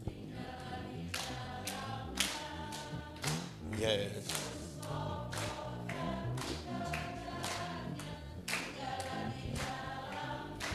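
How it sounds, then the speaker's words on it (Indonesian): A church congregation claps rhythmically in time during a worship service, sharp regular hand claps repeating over singing and voices, with one short spoken word. "sambil tepuk tangan."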